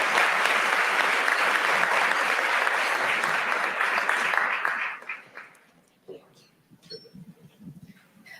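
Warm applause from an audience at a panel event on closing Atlanta's wealth gap, steady for about five seconds before fading out, followed by scattered claps, small room noises and a brief voice.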